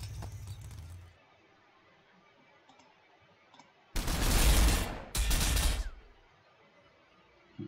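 Gunfire in the Warhammer 40,000: Sanctus Reach strategy game, with Orks: two loud, dense bursts of shooting a second apart, after a short earlier rattle and a quiet stretch.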